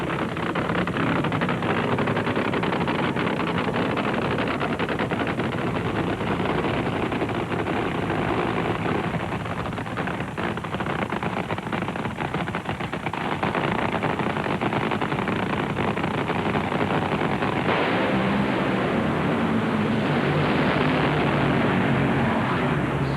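NHRA drag racing cars at the 1997 Winston Drag Racing Series nationals, Joe Amato and Scott Collette, 12,000 horsepower at over 300 mph, a sustained loud roaring thunder of engines with crackle, fading and shifting near the end.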